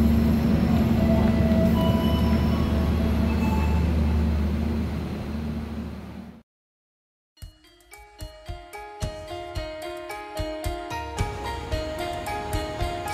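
The KA Lodaya economy train rolls into Yogyakarta Tugu station with a loud steady interior rumble that fades out. After a brief silence, a chiming station melody plays in regular rhythmic notes.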